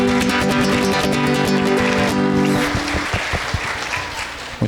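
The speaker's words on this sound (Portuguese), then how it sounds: "uma salva de palmas para a Estela" A congregation claps for Estela during a Divine Mercy Sunday Mass in 2025, a dense, steady wash of hands over sustained tones that fade out after about three seconds, leaving a few scattered claps at the end.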